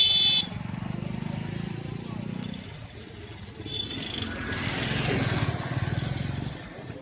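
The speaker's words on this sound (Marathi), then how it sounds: "भरपूर लांबपर्यंत असतील आता ट्रॅक्टर." A long line of tractors idles at a sugar factory, their engines rumbling steadily and fairly close, with one passing louder toward the end and no talking.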